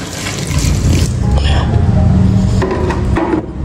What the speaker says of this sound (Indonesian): Kita tambahkan air. Sekitar 1 literan lah.